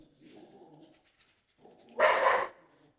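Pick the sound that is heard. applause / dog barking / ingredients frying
dog barking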